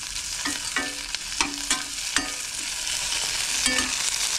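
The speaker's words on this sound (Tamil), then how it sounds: "தக்காளி சேர்த்து வதக்கிப்போம்." Tomatoes are sautéed in a pan for a village-style kuzhambu, with a constant close sizzle punctuated by several sharp spatula scrapes and clinks against the metal at uneven intervals, and no talking.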